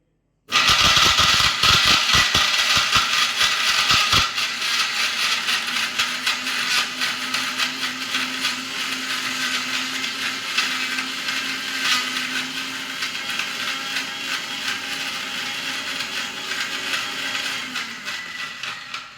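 Kitchen mixer grinder running with water added, starting abruptly with a loud rattling whir of blades and jar that settles into a steady, droning grind for the rest of the clip.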